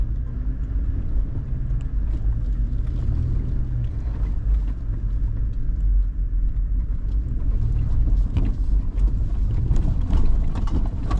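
Off-road vehicle wheels spin in dirt on a trail near Bill Moore Lake, a steady low engine rumble with scrabbling, uneven texture running throughout, loud and close, with no talking.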